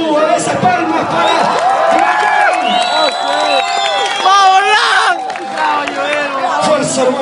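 A crowd at a breakdance battle cheers, whoops and claps loudly and continuously, with an announcer's voice over the noise.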